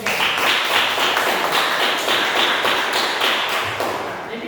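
Classroom applause for group 3, a dense, steady patter of many hands clapping throughout, fairly close and loud, tapering slightly at the end.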